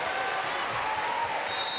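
Brief, steady applause ripples through the crowd at a Paralympic wheelchair rugby bronze medal match between Australia and Great Britain in Paris, a dense clapping wash lasting under two seconds.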